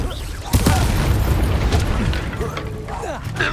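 A Confringo fire-blast spell from the Hogwarts Legacy video game bursts with a sharp boom, then rumbles on under a voice and other game sounds.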